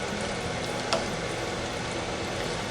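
A sausage, broccoli and cauliflower casserole being stirred in a pot over heat, a steady close sizzle and bubbling hiss with faint scraping and one small clink.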